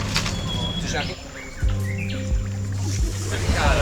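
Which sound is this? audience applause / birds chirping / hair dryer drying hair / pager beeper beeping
birds chirping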